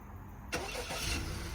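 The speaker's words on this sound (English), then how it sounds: "there we go, the car remote starts itself" A car engine cranks and catches on a remote start, firing up abruptly after a quiet moment and settling into a steady, fairly loud idle nearby; the vehicle is a 1.5 Sport.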